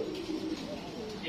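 Lahori pigeons coo in a low, soft, continuous murmur close by, with voices talking over them.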